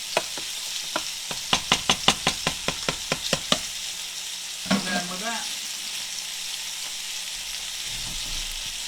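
Chicken sizzles steadily frying in a pan while a utensil clinks repeatedly in a quick rhythm, followed by a brief spoken remark.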